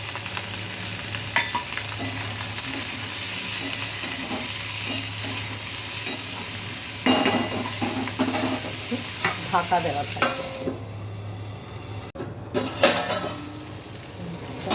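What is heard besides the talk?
capsicum frying with salt and turmeric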